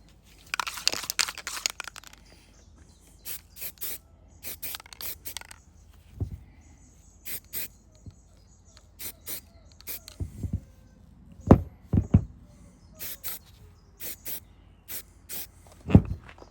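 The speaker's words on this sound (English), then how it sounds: "So I'll give it a quick coat of primer just so it don't rust." Short bursts of spray paint hiss in quick repeated passes as primer is applied to a Mercedes Unimog U1300L hydraulic cab tilt part, quiet between bursts, close and fairly loud.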